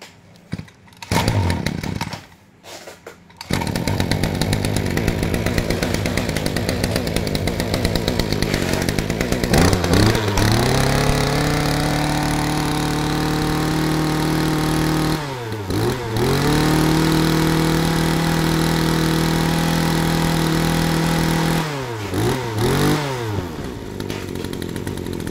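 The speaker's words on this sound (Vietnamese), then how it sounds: "Ryobi này chạy động cơ của Mitsubishi nha em nha. Mấy anh nghe tiếng máy đi, nổ rất là khỏe" A Ryobi grass cutter with a Mitsubishi engine runs close and loud, a buzzing two-stroke drone that sputters at the start, then holds steady with repeated throttle revs rising and falling in pitch, no voices over it.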